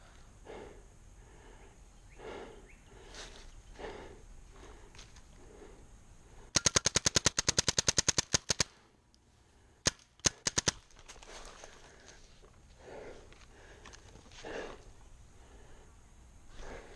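Paintball markers fire during a woodsball game in a forest, first a rapid close burst of a dozen or more sharp pops, then a few scattered shots after a pause, amid heavy breathing and rustling.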